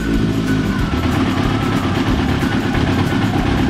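A 1995 Yamaha YZF 750R motorcycle engine idles steadily on tick over with the choke off, a close, even, continuous rumble with no revving throughout.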